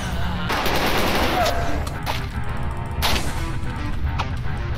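Gunfire in the shooter S.T.A.L.K.E.R. Anomaly sounds as several loud, sharp bursts of rapid shots separated by short pauses, under a steady game background.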